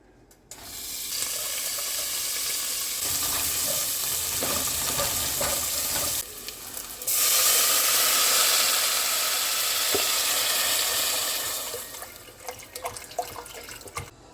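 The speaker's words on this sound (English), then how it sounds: "I got some chopped up bacon and some chopped up white onions. So I'm gonna get that started" Chopped bacon and white onions frying in a pan at home, a steady broadband sizzle running almost the whole time, louder in the middle stretch and easing off near the end.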